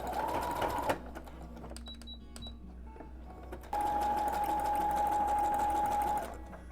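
A home sewing machine stitching a garment seam with a stretch stitch, steady motor whir running in two bursts with a short pause between, close and fairly loud with no talking.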